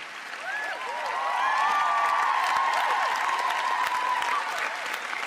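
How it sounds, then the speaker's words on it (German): A concert audience gives sustained, dense applause for a project orchestra, building quickly and holding steady with a few whoops and cheers over the clapping. "Bitte einen ganz herzlichen Applaus für das tolle Projektorchester unter Leitung von Yaron Traub."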